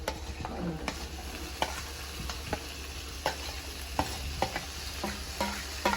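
Tomato and ginger paste frying in a pan with turmeric for beef curry, a soft steady sizzle broken by occasional sharp scrapes and taps of a spoon stirring, quiet and close.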